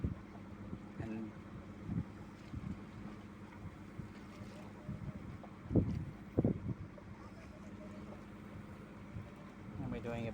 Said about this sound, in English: the engine is just idling along at about 1200 revolutions. Now we're up to about 1400 revolutions,